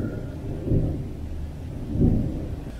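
Thunder from a summer storm in South Florida rumbles at a pond: two low, rolling swells rise over a steady background of rain.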